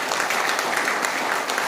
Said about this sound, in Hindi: तालियां आप ठोक सकते हैं।